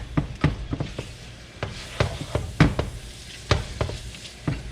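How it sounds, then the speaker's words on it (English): Shrimp and garlic sauté in a hot pan for a scampi-style creamed shrimp pasta, giving a steady close sizzle broken by sharp clacks of a utensil stirring against the pan. "And we are going to put our shrimp in now. And we're just going to kind of like saute it"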